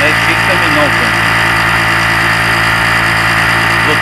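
A Tummler 2.5 hp two-stroke outboard motor on a Kolibri IV kayak runs steadily at medium revs, a loud, continuous buzzing drone that holds an even pitch throughout, with someone talking over it.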